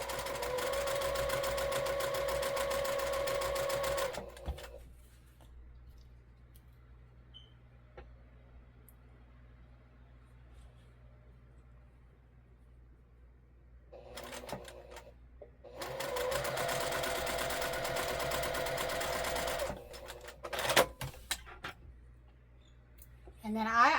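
A sewing machine runs in steady bursts as quilt units are stitched, with a close, continuous mechanical whir, a long pause between runs, and a few clicks at the end.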